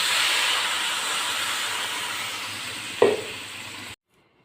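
Hot vegetables for a chorchori of kulbituli, potato, brinjal and radish hiss loudly in a pan as water goes in, a steady steamy rush with a sharper burst near the end before it cuts off.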